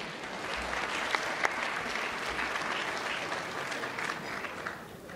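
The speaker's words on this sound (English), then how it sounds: "Give her a round of applause" Guests at a wedding reception applauding, a sustained, even roar of clapping from a sizable room, with a couple of sharper claps standing out near the start and the sound easing slightly at the end.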